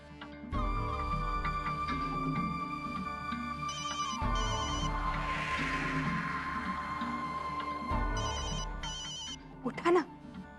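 A telephone rings in repeated electronic bursts that sound at an even pace under continuous talking voices.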